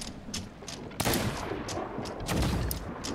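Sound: ship cannons firing in video game Sea of Thieves

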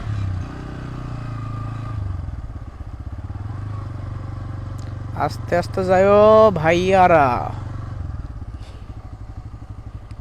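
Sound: motorcycle riding on river bank

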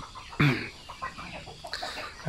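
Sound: chicks chirping, waiting for food

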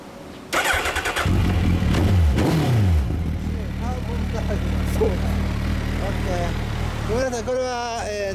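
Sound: Suzuki Hayabusa motorcycle engine revving

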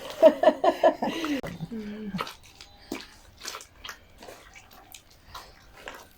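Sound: water being poured to wash homemade butter

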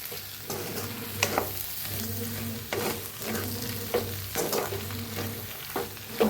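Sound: potato bhaji with sugar and coriander being stirred in a pan

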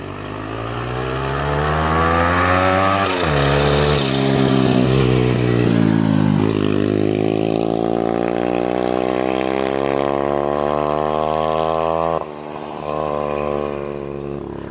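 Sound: turbo Loncin vehicle engine revving

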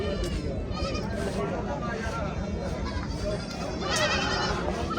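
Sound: goat bleating

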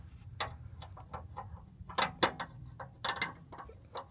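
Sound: wrench loosening fuel line nut on 6.5L diesel lift pump

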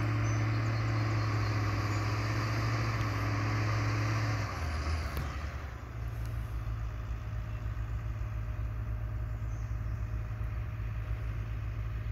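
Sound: skidder spinning out

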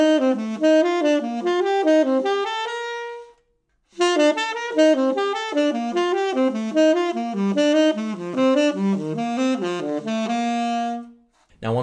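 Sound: jazz arpeggio pattern starting on the fifth, played

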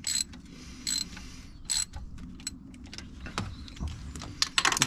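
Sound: ratchet wrench loosening a 14mm bolt on a Nissan 300ZX

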